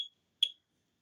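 An Old Dog Electronics mini house alarm, triggered by its timed sensor, gives two short, sharp high-pitched beeps about half a second apart, faint and alone against silence.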